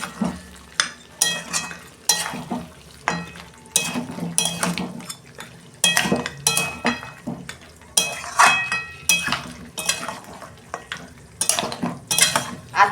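Potatoes stirred into mutton curry in a pan, with repeated scraping and clinking strokes of a utensil against the pan over a steady sizzle, close and fairly loud, coming in regular bursts.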